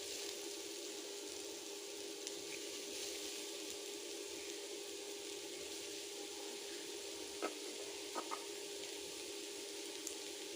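Mushrooms sizzling and frying in a pan over a high flame, with capsicum to follow: a steady, even hiss throughout, with a few faint clinks and stirring taps near the end and no talking.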